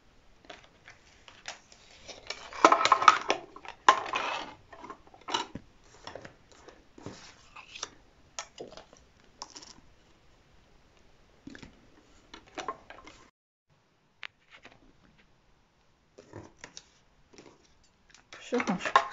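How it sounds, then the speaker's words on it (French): A small paper die-cutting machine used for card making runs in a series of irregular scraping and clicking bursts with pauses between them, close and moderately loud. "Je reprends ma mini machine. Et je vais venir la découper."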